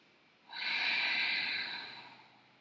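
A single slow, close breath during a calm, slow yoga flow, rising softly, swelling into an airy rush for about a second, then tapering off in a quiet room.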